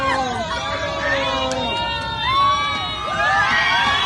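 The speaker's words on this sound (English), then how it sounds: "They cheer on the flight attendant." Airplane passengers cheer on a flight attendant inside the cabin, a dense crowd of excited shouting and chatter with high voices rising and falling throughout, loud and continuous.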